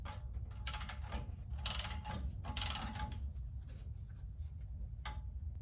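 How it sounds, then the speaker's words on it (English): A 1/2 inch drive ratchet is worked on a vehicle build in a garage, giving several short bursts of clicking pawl chatter with quiet gaps between strokes. "I'm gonna go ahead and grab a 1/2 inch drive ratchet."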